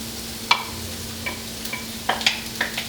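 Diced onions frying in a thin layer of leftover oil for refried beans give a soft low sizzle with a few light stirring clicks and scrapes, close and quiet, with no talk.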